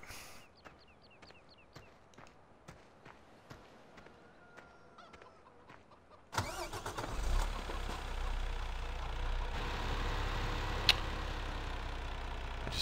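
A truck engine starts up in the Farming Simulator video game on Xbox One: scattered light clicks and taps come first, then the engine catches abruptly midway and settles into a steady, fairly loud running drone.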